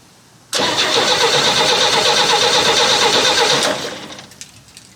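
A 1965 Chevrolet C10 pickup, abandoned for 17 years, fires up loudly close by and runs with a rough, steady roar for about three seconds before fading down.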